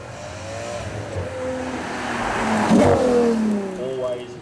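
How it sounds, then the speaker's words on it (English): A V12 Ferrari downshifts at a supercar demonstration event, its engine note climbing and falling in a loud, rising rev blip that peaks midway, with crowd and ambient noise underneath. "Always good to hear a downshift from the V12 Ferraris."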